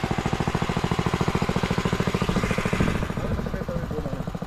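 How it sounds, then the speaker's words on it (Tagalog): Loud, close engine running with a fast, even pulsing chug that holds steady, then thins slightly toward the end as faint higher tones appear. "Yung makina natin malakas. Lalo na pag bininanti mo pa yan."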